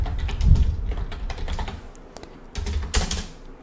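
Quick bursts of typing on a computer keyboard, with key clicks coming in uneven clusters and brief pauses, close and clear with no voice over them.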